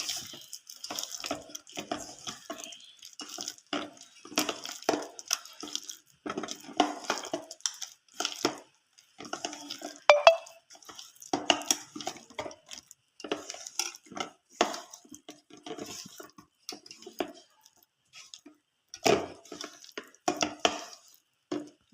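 Urad dal vada batter is stirred by hand in a bowl, giving wet, squelching slaps and light clinks that repeat irregularly and fairly close throughout, with no talking.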